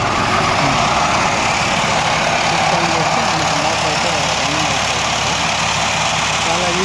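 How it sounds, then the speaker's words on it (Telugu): A sand sieving machine's motor runs steadily throughout, a loud continuous engine-like drone with a low rumble and no breaks. "ఇక్కడ స్విచ్ ఆన్ చేసుకుంటే మనకు మోటార్ ఆన్ అయిపోతుంది"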